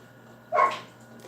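Dogs barking during a live stream, heard as one short, moderately loud burst of yapping against a steady low background hum, with a fainter trailing sound afterward.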